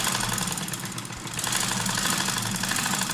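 A sewing machine stitches a shirt's fitting seam with a close, continuous mechanical whir and rapid rhythmic chatter. There is a brief dip about a second in.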